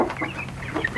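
Chickens cluck in a chicken coop with a screen-wire floor, several short, close calls overlapping in a quick burst with no voices.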